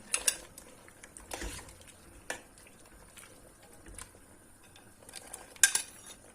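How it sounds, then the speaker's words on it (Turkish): Intermittent clatter of chopped zucchini being tipped into a large pot of soup, with metal utensil clinks and scrapes against the pot at irregular intervals. "Büyük tencereye aldım. Kabaklarımı ilave ediyorum."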